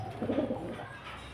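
A single soft, throaty pigeon coo, close by and low-pitched, lasting about a second.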